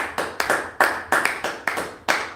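A church congregation claps in a steady rhythm, six or seven sharp loud beats spread over a couple of seconds, each fading quickly, with no talking over them.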